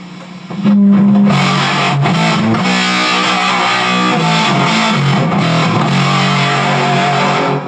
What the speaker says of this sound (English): So now we're getting into blocking distortion, right? Too much gain.